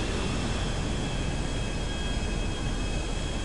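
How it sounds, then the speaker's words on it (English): A jet in Grand Theft Auto 5 roars steadily at close range, a constant loud broadband engine rush throughout with no talking. "I'ma pull up in my jet."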